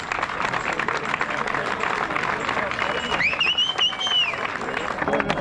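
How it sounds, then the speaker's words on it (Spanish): Crowd applause at a hill-climb car race awards ceremony on Ibiza, honouring a category and junior winner: steady clapping throughout, with a brief whistle or cheer partway through and background voices murmuring. "Fuerte aplauso."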